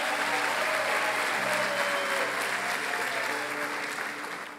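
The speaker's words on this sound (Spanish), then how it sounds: "Dele un aplauso al Señor por eso." A church congregation bursts into loud sustained applause during a sermon, thick continuous clapping with cheering voices mixed in that fades slightly toward the end.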